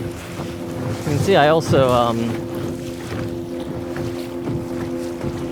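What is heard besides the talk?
wind noise while sailing a Sunfish sailboat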